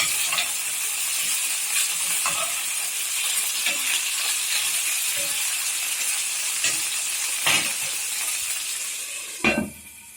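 Food fries in a covered pan, a steady hiss of sizzling oil with scattered pops and light clinks, ending in a louder clatter near the close; no voices.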